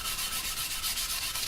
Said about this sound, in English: Sanding the sides down with 400.